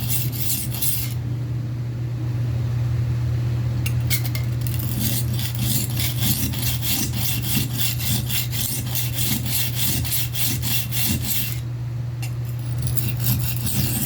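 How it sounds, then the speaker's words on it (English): A kitchen knife is stroked back and forth on a two-sided carborundum sharpening stone, giving steady rhythmic rasping scrapes that repeat close up and without pause, alone with no talk. "But this is really all it is to keeping your knife sharp."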